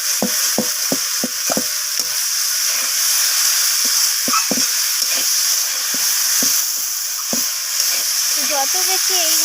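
Eggplant stir-fried with knol-khol, flat beans and other vegetables in rohu fish oil, a steady hiss of frying with repeated scraping clacks of a spatula against the pan.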